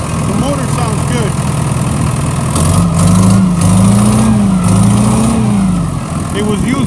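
A 2012 New Holland tractor's rusty, beach-used engine runs steadily up close, loud and even, with a brief rise in revs in the middle, and someone talks over it.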